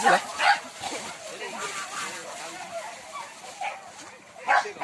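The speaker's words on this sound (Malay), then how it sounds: "Anjing mengengak ai." Dogs bark in short bursts outdoors by a road during a hunting outing, with people talking loudly over and between the barks.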